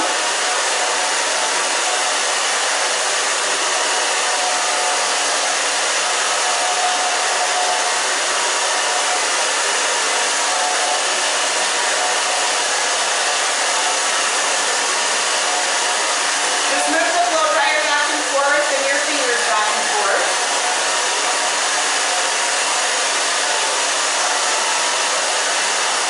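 A hair dryer blows continuously, close and loud, while short hair is dried at the back of the head, a steady whooshing hum that wavers briefly as the airflow shifts midway.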